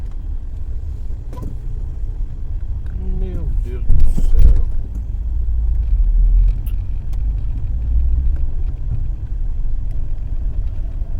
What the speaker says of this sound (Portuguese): o carro vem pra cima